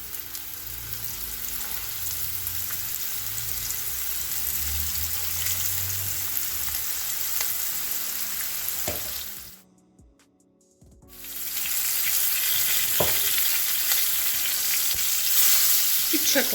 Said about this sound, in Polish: I smażymy obustronnie nasze kawałki schabu.